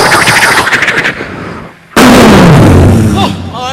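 The last item of a fireworks display goes off: after a stretch of crowd noise, one sudden, very loud blast bursts out, followed by crackling and a falling whistle.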